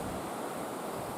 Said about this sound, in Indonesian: Tinggi ombak mencapai lebih dari 2 meter disertai angin.